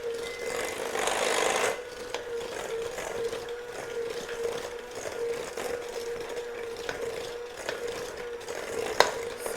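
Eggs being beaten one at a time into praline cake batter: a steady whirring mixer hum with a steady tone, louder for the first couple of seconds, then continuing evenly with small clicks and a sharp knock near the end.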